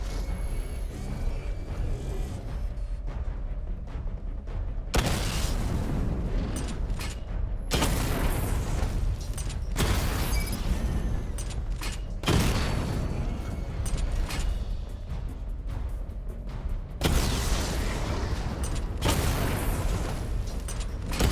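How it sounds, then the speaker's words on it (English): Missile barrage strikes in Batman: Arkham Knight, several heavy booming bursts breaking in at intervals over quieter mechanical whirring and creaks, each blast loud and broadband, with no voices. "Charge the missile barrage to level 2 to destroy up to 4 targets at once."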